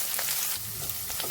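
Curry leaves crackling in hot oil in a pan, a loud, close, continuous sizzle with bright spatters and pops, no one speaking.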